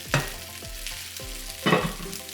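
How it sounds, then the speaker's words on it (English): Chicken udon noodles with broccoli stir-frying in a hot pan, a steady close sizzle broken by a few louder bursts as the food is tossed and stirred. "stir everything all together"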